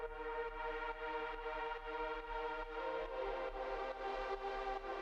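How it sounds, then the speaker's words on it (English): A dreamy synth pad built in Serum from two detuned saw waves with unison pitched up, sustaining as a steady, full chord with a slight shift partway through, playing alone. "All we've got here is 2 saw waves that are detuned,"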